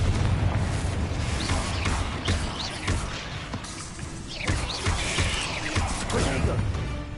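A Confringo blasting spell in Hogwarts Legacy, a series of booming, crashing impacts with rumbling debris throughout, loud and close amid busy combat noise.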